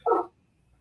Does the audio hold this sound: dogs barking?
yes